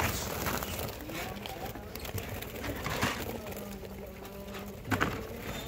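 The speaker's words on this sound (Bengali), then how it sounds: "এ হচ্ছে ভিউয়ার আমার কলোনির উপরের পাখিগুলো" Birds gather above a colony for food, giving faint, soft cooing against a constant rustling background, with a brief louder knock near the end.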